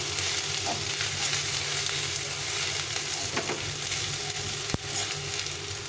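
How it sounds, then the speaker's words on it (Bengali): Onions frying in a pan over caramelized sugar while cooking ghugni, a continuous close sizzle and crackle with a sharp utensil knock near the end, no talking. "এখন আমি পেঁয়াজটার মধ্যে দিয়ে ভেজে নেব"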